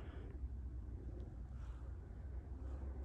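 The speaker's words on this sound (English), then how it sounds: "That airplane sound you're hearing isn't from that." An airplane passes overhead at night, a low, steady rumbling drone heard from a distance, with some wind buffeting the microphone.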